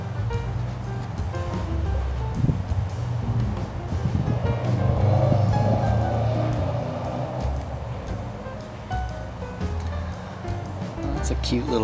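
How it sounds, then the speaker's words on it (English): A small gust of wind rushes outdoors beside a homemade wind turbine, a blustery rumble that swells in the middle and then eases back down. "It's a cute little gust."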